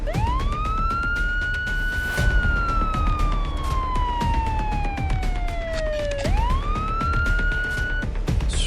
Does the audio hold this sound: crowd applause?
no